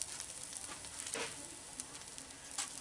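Tomato paste browning in oil in a hot pan for chorizo chile, a steady soft sizzle with faint crackles and a light stir, close and quiet, with no talking.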